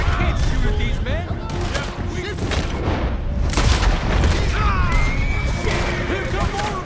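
Gunfire in the western game Red Dead Redemption 2, a shootout during pursuit: repeated loud rifle and pistol shots cracking over rumbling hoofbeats and movement, with characters shouting and talking throughout.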